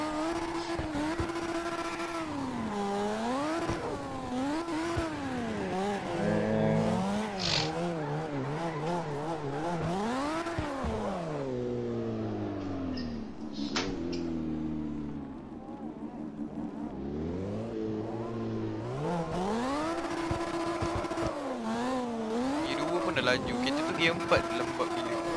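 CarX Drift Racing Online cars drifting, with engine revs rising and falling and tyres squealing through sliding turns, set under background music while people talk over it.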